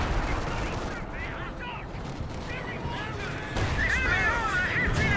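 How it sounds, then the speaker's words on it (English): A coordinated artillery barrage in the strategy game Company of Heroes 2: repeated heavy shell blasts and explosions crash one after another, with a louder burst of impacts near the end and dense battle noise underneath. "It's the coordinated barrage being brought on in."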